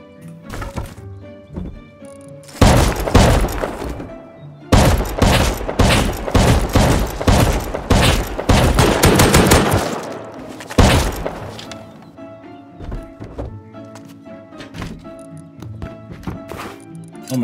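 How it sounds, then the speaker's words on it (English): A shotgun trap fires during a raid on a rock base in a survival video game, loud rapid bursts of heavy blasts and thuds in clusters, separated by short pauses and fading to quieter knocks near the end. "And there's a shotgun trap, right?"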